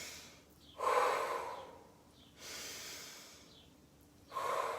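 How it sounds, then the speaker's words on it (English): Slow, deep diaphragmatic breathing close to the microphone: three long airy breaths, each a soft whooshing swell that fades, separated by brief quiet pauses, with no talking. "So deep diaphragmatic breathing."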